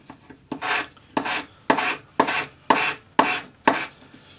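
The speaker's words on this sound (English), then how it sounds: "it only took 4 strokes of my sanding stick" Seven even rasping strokes of a sanding stick with 400-grit paper smooth a soldered join on a hammered ring, each stroke a short gritty scrape close by, in a steady rhythm.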